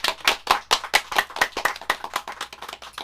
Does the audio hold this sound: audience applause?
yes